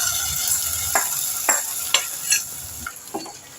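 A spoon stirs tempered siru keerai spinach in a pan, scraping and clicking in several distinct strokes over a soft sizzle, close and with no talk.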